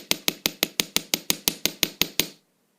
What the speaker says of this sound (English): lightly hammer it,